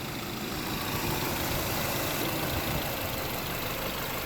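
The engine of a 2018 Subaru Forester Touring runs at a steady idle, a close, even hum with a faint ticking texture underneath and no talking.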